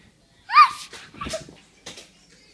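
A pet dog lets out a short high whimper, then softer whines and breathy sounds follow over a couple of seconds in a quiet indoor room.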